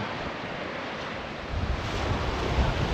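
Coastal wind at Peveril Point, captured on a GoPro Hero 12, roars as a dense, steady hiss with low rumbling buffeting that grows stronger partway through, close and loud with no speech.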